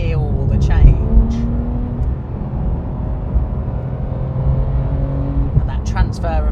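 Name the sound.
Porsche 991.2 911 GT3 engine accelerating with PDK gear changes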